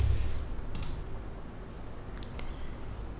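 A computer keyboard is typed on to enter text into a website search box. A few quick, light key clicks come in small bursts over a soft background hiss, close and fairly quiet.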